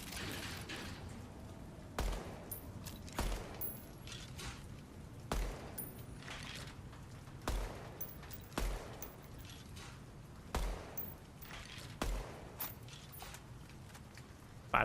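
Gunfire in the shooter video game Deadrop, a string of sharp single shots spaced a second or two apart over a soft steady background, moderately close but fairly quiet overall.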